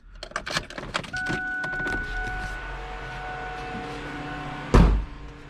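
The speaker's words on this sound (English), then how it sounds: "Now let's go ahead and turn on the fuel pumps." Three electric fuel pumps on a twin-turbo Cobra whir on, producing steady rising whines over car clicks and rattles, followed by a sharp thump near the end.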